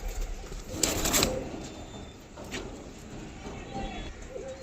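A green male pigeon of an old breed coos softly in a few short, low calls, with a voice talking nearby and light handling noise.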